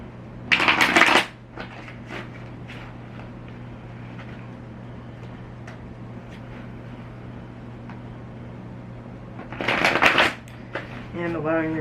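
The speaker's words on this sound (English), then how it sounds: "take a few deep breaths as we shuffle the cards here" Oracle cards are shuffled in two crisp, rapid riffling bursts, one near the start and one near the end, close and loud against a quiet room with a low steady hum.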